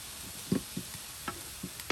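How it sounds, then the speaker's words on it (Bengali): Spices tempering in hot oil for a village-style fried gourd-greens dish, heard as a faint steady sizzle broken by a handful of soft irregular pops and clicks. "আমি বাগার দিলাম"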